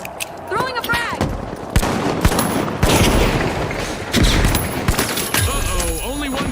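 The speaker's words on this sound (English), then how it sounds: "Throwing a frag." A frag grenade going off in a first-person shooter, amid a busy stretch of rapid gunfire bursts and sharp cracks, loud and close, with a voice talking over the action.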